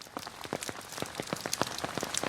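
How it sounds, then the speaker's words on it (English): Heavy rain pelting flooded downtown Charleston streets during a flash flood, a dense, steady patter of drops splashing on water and pavement, close and continuous with no voices. "This is another round of rain triggering more flooding for Charleston"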